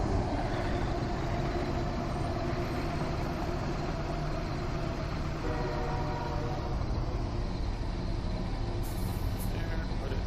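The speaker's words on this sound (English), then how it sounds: "It's a loud train." A loud train rumbles past in the American Truck Simulator game, a dense, steady roar of rolling wheels and engine that fills the whole stretch without pause, with a faint high tone near the end.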